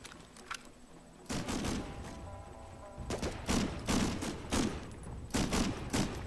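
Sniper and other gunfire in an Xbox shooter game, a series of loud sharp shots in irregular bursts with booming tails, close and continuous.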